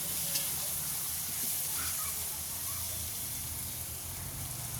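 Tomatoes fry in a pan with a soft, even hiss and sizzle, steady and close, with faint stirring ticks and no talking.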